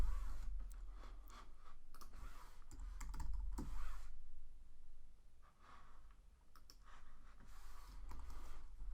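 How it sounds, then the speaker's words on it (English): Typing on a computer keyboard at a desk, a steady patter of soft clicks and key taps, close and fairly quiet, with a low hum underneath. "I'm just going to type in the word fold"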